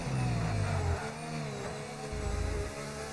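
Race car engine in a racing video game, revving hard on track with a loud sustained roar that surges and dips as the throttle changes, rising again near the end.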